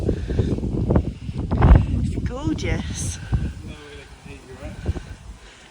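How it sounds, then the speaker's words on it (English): Gusty wind in Sicily buffets the microphone with low rumbling bursts while a person talks briefly over it. "it's so windy"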